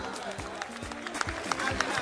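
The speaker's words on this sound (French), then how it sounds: "On peut l'applaudir," Audience applause at a live televised gala ceremony, a quick patter of claps from a crowd under a voice speaking over it, moderately loud and continuous.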